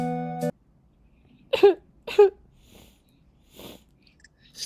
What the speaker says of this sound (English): Still got that cough, huh?